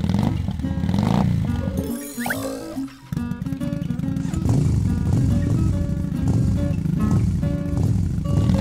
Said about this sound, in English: Motorcycle.